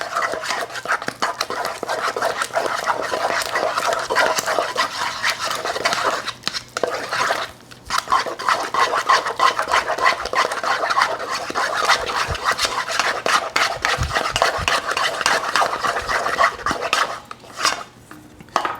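Eggs being beaten one at a time into a mixture in a pan over low heat: a steady, continuous scraping and whisking of utensil against metal, close and busy throughout with only brief pauses.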